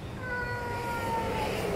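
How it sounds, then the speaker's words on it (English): A cat meows in one drawn-out, wavering cry lasting over a second, fairly faint and a little distant, with no one speaking. "a cat for company."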